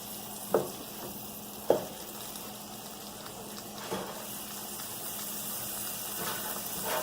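Thin-sliced cheesesteak meat fries and browns in a hot pan, giving a steady soft sizzle broken by a few scrapes and knocks as it is slid around and flipped.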